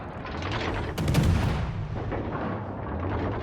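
Naval gunfire booms in World of Warships Legends, a heavy close blast near the one-second mark followed by a sustained, rumbling barrage of artillery and distant shell impacts.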